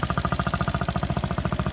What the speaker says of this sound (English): I'll give it a start up for you so you can see what it sounds like.